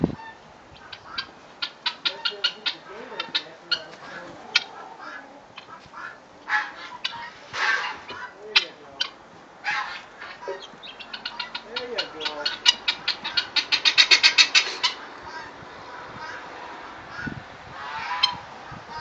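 Chickens are outdoors, sounding a busy run of clucks, squawks and sharp honk-like calls, some near and loud, others overlapping, with people talking at times in between.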